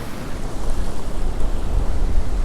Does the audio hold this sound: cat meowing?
no